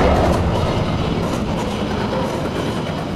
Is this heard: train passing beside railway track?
yes